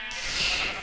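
A single sheep bleats in the Minecraft video game, one short, close, wavering cry lasting under a second, with no talking over it.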